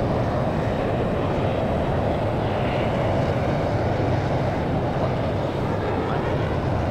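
An F-35 jet in the Battlefield 2042 video game gives off a continuous, loud engine roar that holds steady without breaks or clear speech.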